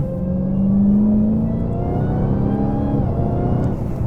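A Dodge Challenger Hellcat Redeye Widebody's supercharged V8 swells with a brief throttle blip, then settles into a deep, rumbling idle heard close up and alone.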